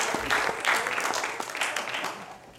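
A Sunday gathering crowd claps to welcome a speaker to the stage, a brief burst of close, full applause from many people that holds steady for a couple of seconds and then starts to thin.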